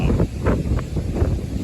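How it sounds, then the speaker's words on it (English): Strong storm wind roaring through the woods, a loud, gusty, low rumble buffeting the microphone without pause. "As you guys can see, it is very loud and it is very windy,"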